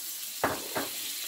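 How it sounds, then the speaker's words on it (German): Butter sizzles in a frying pan with a soft, steady hiss, broken by two short louder crackles in quick succession. "So, die Butter kann sie reintun in eine"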